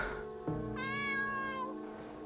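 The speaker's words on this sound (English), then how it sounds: "Oh, there's a cat. There's a small cat-like creature." A video game cat gives a single clear, fairly close meow that rises and then falls, set against a soft ambient background with no talking.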